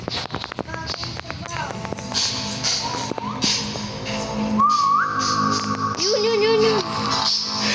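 A person whistles a few short rising and sustained tones during Roblox gameplay of Grow a Candy, mixed with tapping, footstep-like game sounds and nearby chatter.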